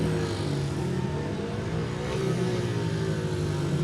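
Speedway bikes held at the starting tapes, their engines revving together in a continuous, fluctuating roar with overlapping droning tones, heard from a moderate distance with no clear voices.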